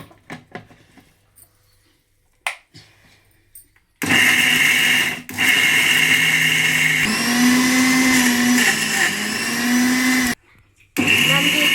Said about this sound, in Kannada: ಒಂದು ಸ್ವಲ್ಪ ನೀರು ಹಾಕಿ ಮಿಕ್ಸಿ ಹಾಕ್ಬೇಕ್ರಿ ಇದಕ್ಕೆ ಜಾಸ್ತಿ ಹಾಕ್ಬೇಕು ನೀರು ಹಾಕಿ ಮಿಕ್ಸಿ ಹಾಕಿ